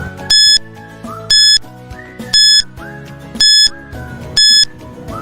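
Quiz countdown timer, five evenly spaced bright electronic beeps about a second apart, loud and sharp, sounding over a quieter tinkling musical backing with no speech.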